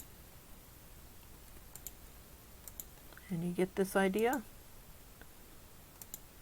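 Sparse, faint computer mouse clicks tick at intervals while a person speaks briefly in the middle, over a quiet room background.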